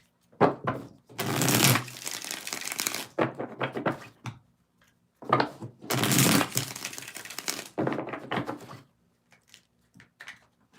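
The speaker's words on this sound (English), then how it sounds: "Last shuffle." Tarot cards are shuffled in two long riffling bursts, each with shorter card slaps and taps around it, soft and close with quiet gaps between.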